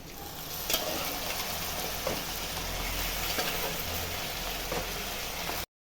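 Mutton roasting in masala in a pan, with a steady close sizzle and frying hiss throughout and a few soft scrapes from stirring, no talk.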